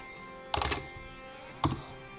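Keystrokes on a computer keyboard while working in Windows: a quick cluster of clicks followed after a pause by a single firm tap, close and fairly quiet.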